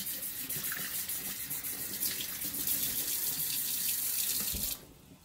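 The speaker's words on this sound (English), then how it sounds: "I'm just going to rinse this under cold running water to get most of the blood out." Cold water runs steadily from a kitchen tap over raw fish being rinsed of blood, a continuous close splashing stream that stops abruptly near the end.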